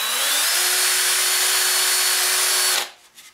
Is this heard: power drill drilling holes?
yes